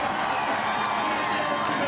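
Dense, loud crowd noise of roadside spectators cheering and applauding at a Tour de France stage finish, a continuous roar of voices and clapping with no pauses.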